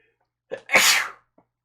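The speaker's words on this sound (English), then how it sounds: "So, I'm gonna sneeze." A single close sneeze with a short sharp intake followed by a loud burst, then quiet.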